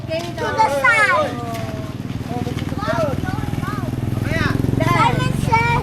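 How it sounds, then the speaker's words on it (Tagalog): A motorcycle on a village road passes close by, its steady buzzing engine drone rising and lasting under children's lively playground chatter and shouts. "Bala, may motor."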